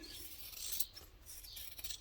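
Scissors snip and rasp through fabric while trimming a sewing project, a quiet, close series of scratchy cuts with no talking.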